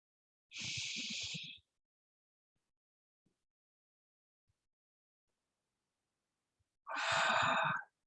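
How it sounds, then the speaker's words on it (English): Two deep, deliberate breaths during a stretching routine, each a long airy exhale separated by several seconds of near silence, close and soft. "let's try to keep that breathing going. Deep,"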